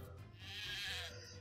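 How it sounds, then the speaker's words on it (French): A sheep bleats once in the video game Craft The World, a short wavering game-style bleat sounding alone and fairly clear over quiet background music. "Là j'ai tous les moutons"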